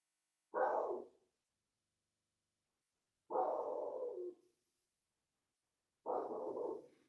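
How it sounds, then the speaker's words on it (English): A dog indoors barking at the neighbors, three separate short bark bursts spaced a few seconds apart against near silence, moderately loud and fairly close, with no talking. "That's just one of my 3 dogs barking at the neighbors."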